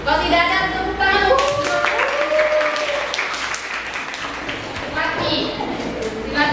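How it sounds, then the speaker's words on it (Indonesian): A classroom audience claps during a teaching performance assessment, steady mixed clapping throughout, with talking and a voice over it. "tepuk tangan"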